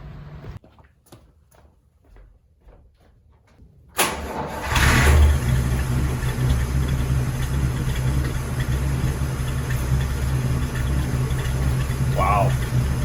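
A car engine, just refitted with a new cylinder head, cranks briefly and catches, then settles into a steady, loud, close idle that runs for several seconds.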